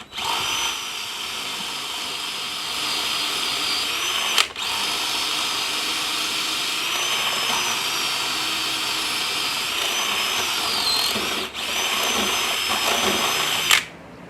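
A power drill bores through a wooden fence post, whining loud and steady near at hand for about fourteen seconds. Two or three short dips and knocks break the sound where the bit grips or is pulled back.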